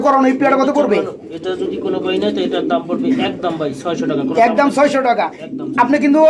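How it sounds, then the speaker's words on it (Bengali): Giribaz pigeons at a market coo in soft, throaty bursts mixed in with people talking nearby. "আপনার কাছে আরো অসংখ্য গ্রিবাস কবুতর আছে"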